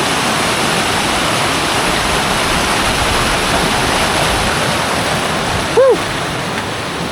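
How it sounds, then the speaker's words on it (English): A river flows past a hiking trail crossing on the way to Mount Hale, giving a steady, loud broadband rush of water that holds throughout, with a brief whistle-like tone just before the end. "river crossing."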